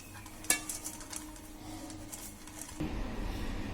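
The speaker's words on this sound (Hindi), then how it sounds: "जिस बर्तन में हम ढोकला बनाएंगे उसको हम ऑयल से ग्रीस कर लेंगे।" A pan for Gujarati dal chawal dhokla being greased with oil: one sharp metallic clink up close, then light scraping and clattering of kitchenware that turns into a broader rustle near the end.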